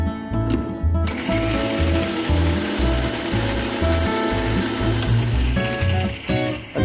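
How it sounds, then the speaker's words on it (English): A spice grinder whirs through toasted whole spices, a loud, steady mechanical grinding with a rattling, gear-like texture that runs almost without break for several seconds. "I'm going to transfer this to a spice grinder."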